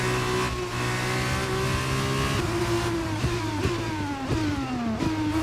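A race car at the Bahrain Grand Prix accelerates flat out, a loud, continuous engine howl whose pitch climbs and drops as it shifts through gears. No one speaks.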